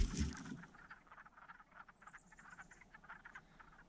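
A dense chorus of frogs croaks from a vernal pool trap, rapid overlapping calls at a fairly faint level, with a brief louder thump of handling noise at the start.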